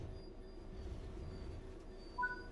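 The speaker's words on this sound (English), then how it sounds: "Train's making a lot of cranky noises." A train rumbles along quietly in Train Sim World 3, with faint metallic whines and a brief squeal near the end.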